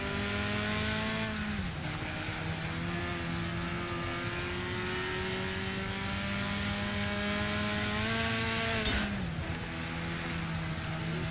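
Race car engine in the Wreckfest racing game, steady droning revs that dip and climb again around two points, with a hint of tire noise, loud and continuous with no talk.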